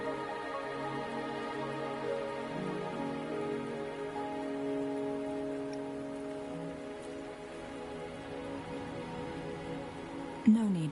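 Steady rainfall in the game Wuthering Waves, a continuous patter on surfaces under a layer of sustained ambient music, with a brief sharper sound near the end.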